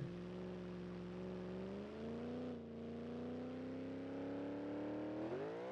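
A car engine in BeamNG.drive revs steadily at high, droning pitch, briefly dips during a missed gear shift, then climbs again; fairly quiet and continuous, with a brief word spoken.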